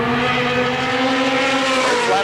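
Race car engines at Motordrome Speedway, a Howell chassis car with a Fast Racing Engine among them, producing a continuous loud droning roar with steady pitched engine tones and a slight shift near the end, with a crowd-and-track wash beneath.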